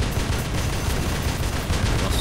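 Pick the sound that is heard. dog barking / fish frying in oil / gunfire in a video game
gunfire in a video game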